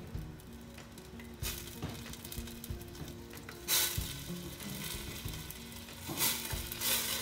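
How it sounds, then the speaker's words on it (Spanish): Chicken consommé soup comes to a boil in a pot while a spoon stirs it, with a steady close bubbling and sizzling texture and a few scraping stir strokes and louder bursts along the way, no talking. "Ya que está hirviendo bien"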